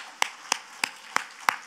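A church congregation claps in unison: five sharp, evenly spaced claps, roughly a third of a second apart, ring out clearly over a quiet room.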